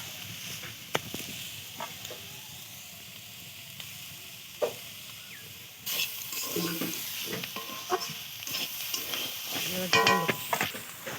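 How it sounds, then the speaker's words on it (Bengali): Prawns, potato and eggplant frying on a clay stove, a soft sizzle with intermittent spatula scrapes and stirring knocks, growing louder and busier partway through, with a voice briefly heard. "দেখো সেই চিংড়ি মাছ আলু বেগুন দিয়ে ভাজা হয়ে গেছে রান্না"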